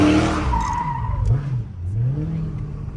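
A car engine revs hard with too much throttle while a driver learns to spin it. The engine drones and rises close by, with a whining, sliding pitch that suggests the tires slipping.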